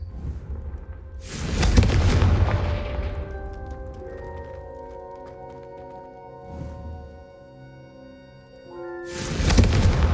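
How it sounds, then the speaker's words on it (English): A fire-spell blast goes off in Hogwarts Legacy: a deep, loud whooshing boom, a calmer stretch with ringing tones, then a second heavy burst. "I think you'll find that a Confringo cast travels a bit farther than that of a spell like"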